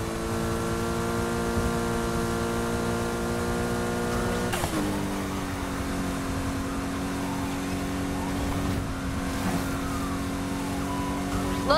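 A Need for Speed Heat police car chase: roaring engines hold steady tones, then drop and shift pitch with revs and gear changes, loud and close throughout.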